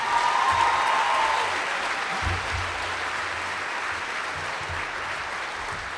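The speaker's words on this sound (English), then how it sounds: "one more big round of applause for" Sustained audience applause fills a sports awards ceremony hall, a dense steady wash of clapping that holds for the whole stretch and eases slightly toward the end.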